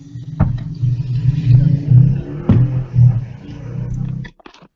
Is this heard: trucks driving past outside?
yes